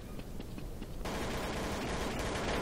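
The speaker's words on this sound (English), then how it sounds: "What do I hear? Gunshots." Gunfire in the video game Counter-Strike: Source, Zombie Escape mode, erupts in a dense, continuous burst of rapid shots, loud and steady, after a second of quieter scattered pops.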